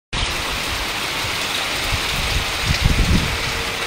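Steady rain with strong gusting wind at a fishing pond in Binh Chanh, a dense continuous wash of noise that swells with heavier low rumbling gusts toward the end.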